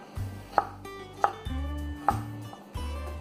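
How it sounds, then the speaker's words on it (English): A knife slices okra into thin circles on a cutting board, four crisp, evenly spaced chops sounding close and distinct with quiet pauses between. "So you can make 4 pieces, or you can cut in a half, or you can cut into like circles."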